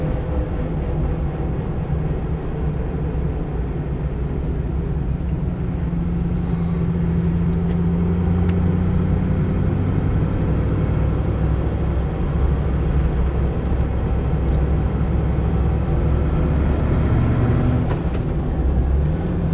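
A Land Rover 90 V8 CSW driving gives a continuous, loud, low engine drone and road rumble from inside the vehicle, steady throughout with no speech.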